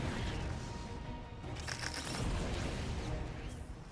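A Vulture spider mine detonates in a StarCraft match, a dull booming blast that swells and rumbles for a couple of seconds amid dense game noise.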